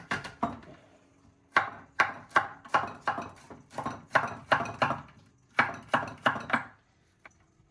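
Garlic cloves are cut in half on a board with about sixteen sharp, close knife chops. They come in quick bursts of three or four, with short pauses between the groups.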